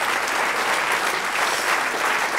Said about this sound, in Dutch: Mag ik een groot applaus voor de 2 heren.